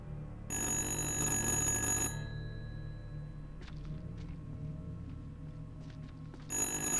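A cordless telephone rings in the horror game Little Hope, two loud electronic trilling bursts separated by several seconds of quiet ambience with faint clicks and rustles.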